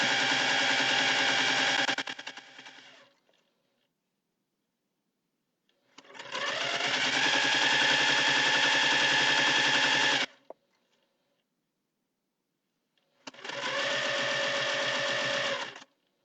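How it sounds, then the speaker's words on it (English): A sewing machine stitches a seam on a jelly roll table runner in three loud, close bursts of rapid stitching separated by pauses of near silence. "And we're going to sew this seam."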